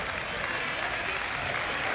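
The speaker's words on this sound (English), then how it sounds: "Wilson and Roth get a round of applause as they check out" A crowd at a 1997 men's college basketball game, BVU against Loras, gives players a round of applause as they leave the court; dense, steady clapping fills the gym for the full stretch.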